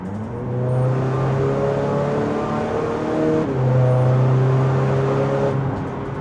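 A 356bhp VW Caddy sleeper with a DSG gearbox and four-wheel drive accelerates hard on a damp road, its engine note climbing, dropping briefly at a quick gear change, then rising again, loud and close.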